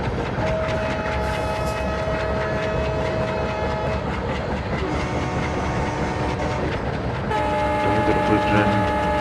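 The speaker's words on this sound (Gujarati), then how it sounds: "ટ્રેન સ્પીડ પકડી લીધી છે. 51, 52, 53 સ્પીડમાં ચાલી રહી છે." A WDM3D diesel locomotive in an Indian train simulator game gains speed with a continuous engine rumble, rhythmic wheel clatter and horn tones, alone and fairly loud.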